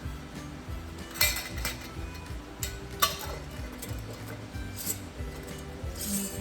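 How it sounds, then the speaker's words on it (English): Metal lids are screwed onto glass pickle jars with scattered clinks and scraping twists over a steady low hum, each contact bright and close. "Screw it on to fingertip height"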